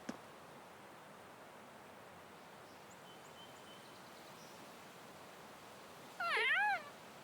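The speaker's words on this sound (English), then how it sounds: "Being stared at by a black cat." A black cat in the Trails of Cold Steel video game gives a single short, clear meow near the end, following a long stretch of quiet background hiss.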